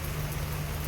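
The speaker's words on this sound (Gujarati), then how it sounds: "હજુ વરસાદ ચાલુ જ છે." Rain falls outside in a steady, even wash of hiss, moderately soft and continuous, with no voices.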